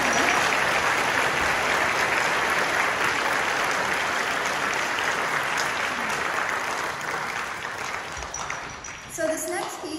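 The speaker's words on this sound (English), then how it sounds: "can we just give another round of applause for that amazing composition?" Sustained audience applause at a school winter band concert after a wind ensemble performance, a steady wash of many hands clapping that tapers slightly at the end.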